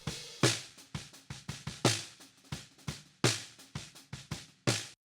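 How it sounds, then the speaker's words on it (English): A snare drum's bottom microphone plays solo, giving bright, rattly snare-wire hits in a steady groove with accented strokes and softer ghost notes, fairly quiet and close. "The snare bottom mic on its own sounds like this."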